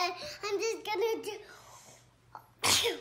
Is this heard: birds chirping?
no